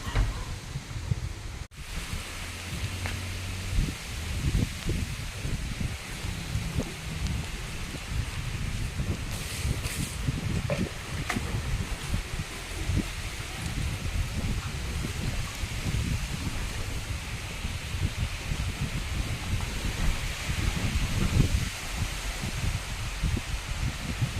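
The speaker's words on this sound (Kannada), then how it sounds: "ತುಂಬ ಜೋರು ಗಾಳಿ ಸ್ಟಾರ್ಟ್ ಆಯಿತು" Steady gusting wind roaring and buffeting close by, with a rushing, rustling texture that persists throughout.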